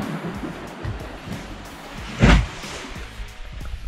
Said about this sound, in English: Where when the water like goes inside that kind of cavern, it like thumps up against the rock walls.